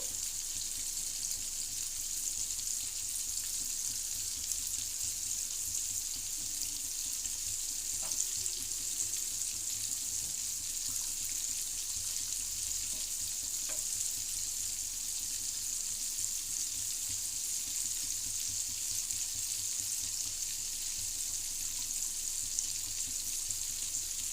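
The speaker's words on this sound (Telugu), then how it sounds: "సిమ్లో పెట్టుకొని ఫ్రై చేద్దామండి" Purnalu sweet dumplings deep-fry in oil over a low flame, giving a steady, soft, even sizzle that runs unbroken from start to end with no talking.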